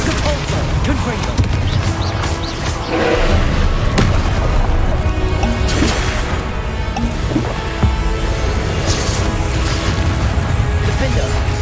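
Spell blasts from Confringo and Depulso in the video game Hogwarts Legacy, a busy run of loud booming bursts and crashing impacts layered over a continuous rumbling game soundscape.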